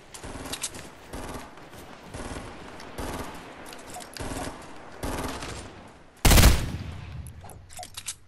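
Bursts of rapid automatic gunfire aimed at enemies in Fortnite Save the World, several short volleys in a row followed by one louder, sharper blast, all fairly close and clear.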